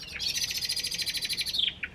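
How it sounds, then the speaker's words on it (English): Birds squabble in a rapid, rhythmic series of bright chirps and tweets, fairly faint, at a show venue. "Now we have a plane and the birds squabbling."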